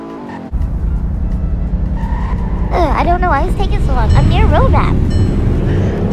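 A car in the Roblox Bloxburg game revs up and drives off, its loud engine rising and falling in pitch with tire squeals and skids, a steady roar underneath throughout.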